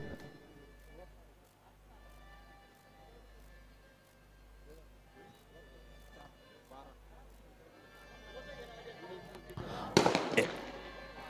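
Firecrackers burst at a local club cricket match in India: a quiet stretch with faint voices gives way near the end to a loud, rapid cluster of cracking explosions.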